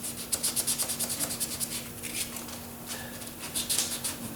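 Filler being hand-sanded on a Ford Flex bumper cover in a crisscross pattern, a steady rhythmic scrubbing with quick repeated strokes, close and fairly loud, with no talking.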